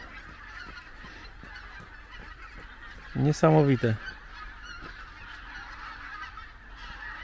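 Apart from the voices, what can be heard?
flock of wild geese honking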